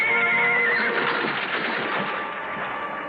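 A horse in a 1956 western film gives a loud, shrill neigh that rises and then trails into a rough, fluttering whinny, close and alone without talk.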